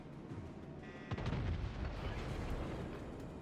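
Anti-aircraft guns on warships in World of Warships fire as a plane flies into their defences: dense, rumbling bursts of booming shots rolling together into a continuous barrage, loud and close.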